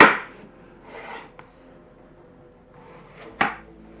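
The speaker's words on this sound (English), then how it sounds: "with the exception of a tomato, which I am going to quarter" A knife quartering a tomato gives a few soft, close cutting strokes, with a sharper board tap near the end, in a quiet kitchen.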